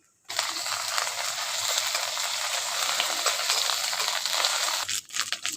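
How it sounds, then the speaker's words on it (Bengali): Onion and ginger paste sizzles in a pan, a loud, steady hiss that starts abruptly and continues evenly before breaking off near the end. "আদা পেঁয়াজ একটু ভেজে নিয়েছি"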